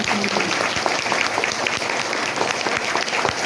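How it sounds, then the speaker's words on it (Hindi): Loud, dense applause from an audience at a spiritual class, a steady wash of many hands clapping throughout with no pauses. "जोर से ताली बजाओ"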